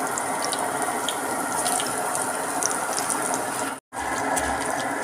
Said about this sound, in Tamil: ஸோ இப்போ வந்து நம்ம எண்ணெயில் வந்து பொரிச்சு எடுத்துடலாம்